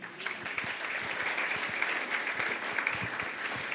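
A church congregation applauds during a sermon, a moderate, steady patter of many hands, fairly distant and even throughout, with no voice on top.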